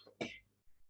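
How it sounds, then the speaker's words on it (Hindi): A man gives a short, throaty cough partway through a Hindi/Urdu web development lesson, a brief harsh burst with a softer rasp trailing after it. "थोड़ी यार खांसी बहुत आ रही है"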